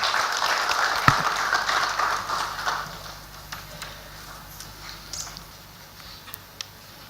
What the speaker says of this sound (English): can we give a big round of applause for Mr. Saxena.